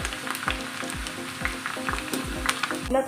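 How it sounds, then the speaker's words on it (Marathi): Onion deep-frying in hot oil for a raw jackfruit biryani, a close, bright sizzle broken by repeated low thumps and clatters of a utensil in the pan, without speech. "यामध्ये आता आपण कांदा असा तांबूस रंगाचं तळायचं आहे तेल हे व्यवस्थित तापलं असलं पाहिजे"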